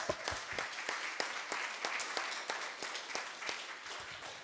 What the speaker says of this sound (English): let's have a big round of applause for that.